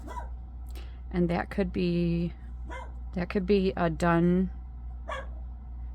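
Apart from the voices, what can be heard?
dog barking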